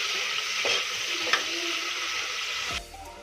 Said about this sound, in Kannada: ಗೋಲ್ಡನ್ ಕಲರ್ ಬರೋ ತನಕ ಫ್ರೈ ಮಾಡ್ಕೊಳ್ಳಿ